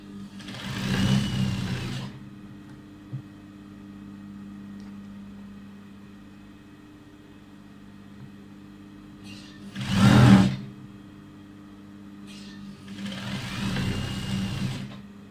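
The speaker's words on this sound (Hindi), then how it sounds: "उसी लाइन के ऊपर हम सिलाई लगाते जाएंगे हिप तक" Sewing machine stitching a seam along a chalk line up to the hip on a boutique garment, heard in three separate loud whirring bursts with quiet gaps between them.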